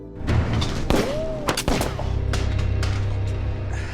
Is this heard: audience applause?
no